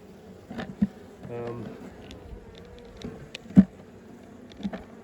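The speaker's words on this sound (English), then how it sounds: "leaving a ton of bees in here" A soft honey bee buzz hums through the background around an open hive box, with a few light knocks and frame-handling sounds nearby and some faint low talk.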